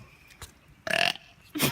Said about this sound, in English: he can't stop burping